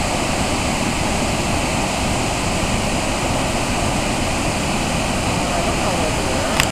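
Englishman River Falls on Vancouver Island roars as a dense, constant rush of falling water, loud and unbroken throughout, with a brief voice at the very end.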